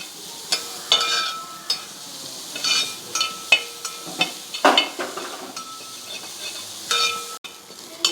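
Crushed minced beef stir-fried in a pan for tapioca puttu, with a steady low sizzle broken by repeated sharp scraping and clinking strokes of a spoon pressing and turning the meat, close by and without talk.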